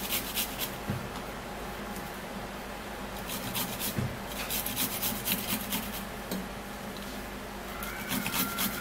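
Ingredient rubbed against a hand grater, a quiet rapid rasping scrape repeated in uneven strokes at close range.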